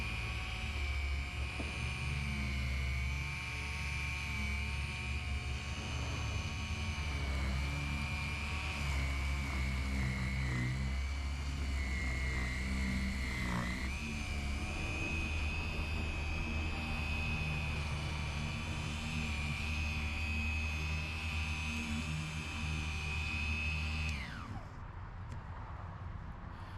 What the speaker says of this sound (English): So that's the sound of the polisher.